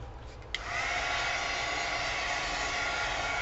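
A dryer switches on with a brief click and then blows a steady, loud whoosh, drying paint on a mixed-media junk journal cover, with no voices.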